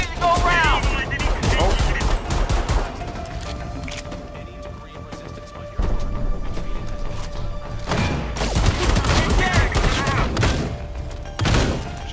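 Gunfire in the co-op shooter Homefront The Revolution: dense volleys of rapid shots and crashing impacts come in bursts, with a quieter lull in the middle, while players talk over the action.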